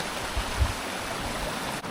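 A small stream fed by the Asia River flows toward Mambukal Resort, giving a steady, even rush of running water heard close by and alone.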